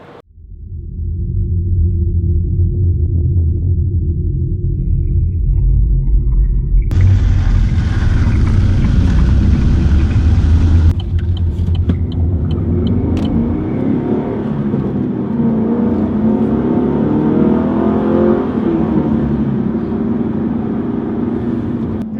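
A Holden HSV Clubsport R8 engine roars and revs steadily for the whole stretch, surging louder with a brighter, higher whine midway before settling back into a strong rumble.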